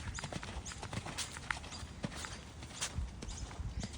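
A horse cantering on the right rein on a springlike day, its hoofbeats a steady, fairly close rhythmic clip-clop that runs through the whole stretch, with faint creaks and ambient noise and no talk.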